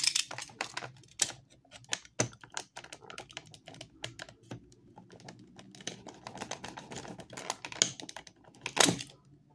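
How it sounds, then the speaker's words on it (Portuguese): A box cutter slicing open plastic toy packaging for a Playmates figure, giving a run of sharp clicks, snaps and scraping cuts in an irregular rhythm, close and fairly quiet, with no talking. "Vamos abrir aqui e usar o estilete."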